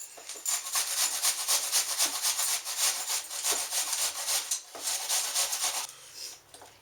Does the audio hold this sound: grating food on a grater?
yes